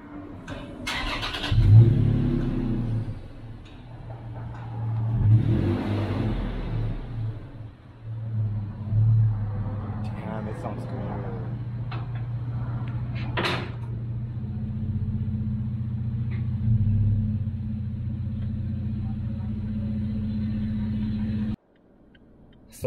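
A Toyota Tacoma TRD with an upgraded exhaust revs several times with a deep rumble, then settles into a steady low drone, loud and close before cutting off abruptly near the end.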